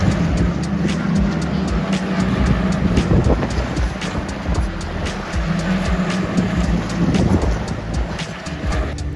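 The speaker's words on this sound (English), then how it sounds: "this is what the F1 Academy cars sounded like" F1 Academy race cars at the Miami Grand Prix roar past in a steady, loud wash of engine noise, with repeated sharp pulses as cars sweep by against constant crowd-and-track rumble.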